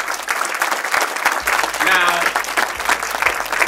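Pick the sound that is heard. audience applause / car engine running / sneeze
audience applause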